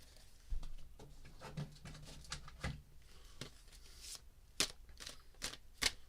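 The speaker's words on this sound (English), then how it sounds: "Shuffle time, shuffle time, shuffle time." Tarot cards being shuffled by hand in a quiet room, a series of soft riffling bursts and sharp flicks with brief pauses between them.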